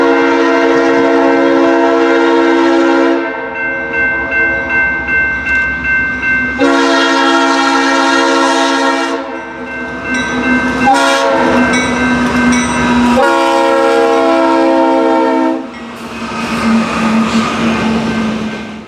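A BNSF 5320 locomotive leads a freight train through Chaffee, Missouri, sounding its Leslie RS3L horn in several loud, close, sustained chords, with rumbling rail noise between the blasts.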